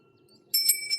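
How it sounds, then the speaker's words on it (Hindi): A small temple bell rings abruptly after near silence, a bright metallic ring that sustains and pulses briefly, close and clear. "और ये घंटी बजाई।"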